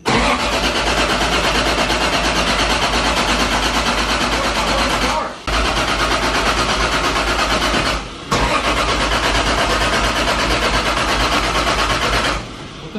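Toyota 1JZ engine cranking repeatedly without starting, long loud rhythmic bursts of the starter motor separated by two brief pauses, close by, with people talking over it.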